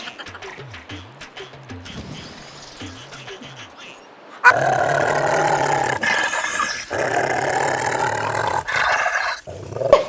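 A dog growls in low, rough, repeated snarls, close and fairly loud, with a steady, noisy roar of background sound underneath in the second half.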